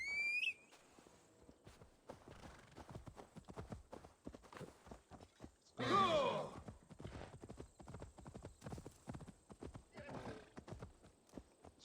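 Video-game horse hooves clip-clop steadily in a loose walking rhythm at moderate level throughout, with a whinny near the start and a louder burst of hoof and tack noise midway; a voice talks intermittently over the hoofbeats.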